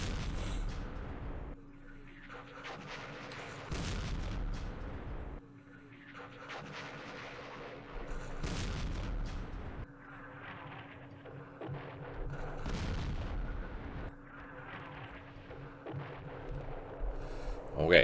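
Artillery shells in the Vietnam wargame Campaign Series Vietnam, Battle of Hue, land as a series of roughly five deep, booming explosions, spaced a few seconds apart over a steady low hum.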